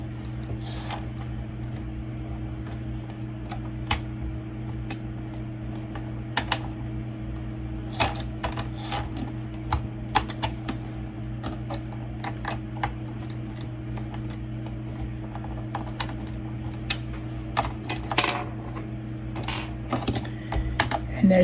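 A screwdriver turns screws to free the side brush of a Roomba 694 vacuum, giving small, irregular plastic clicks and ticks over a steady low electrical hum, close and fairly quiet.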